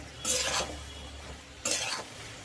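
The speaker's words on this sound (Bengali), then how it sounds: "এবার এটা নেড়ে নিলাম। এর মধ্যে এই ভেজে রাখা চিকেনগুলো দিয়ে দেব।" Fried chicken pieces stirred into oyster sauce and soy sauce with onion in a pan, heard as two short scraping sweeps of a spatula over a quiet simmering hiss, close up.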